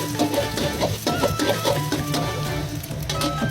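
Eggs for fried rice are beaten and stirred in a hot pan, giving a loud, rhythmic scraping and tapping over a faint sizzle, with no talk.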